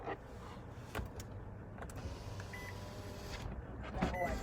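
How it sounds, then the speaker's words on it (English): A car's rear power window hums upward in a steady motorized whir, closing with a faint bump at the top, over low cabin noise. "that's why I rolled up the back window"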